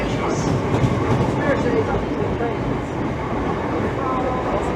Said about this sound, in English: Southeastern train service to Charing Cross.